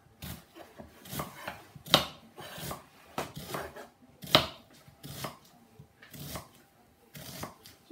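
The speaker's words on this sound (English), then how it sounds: "it says to slice the onion" Knife chopping an onion into big chunky pieces on a cutting board, with steady rhythmic thuds and crisp slices, close and clear, and no talking.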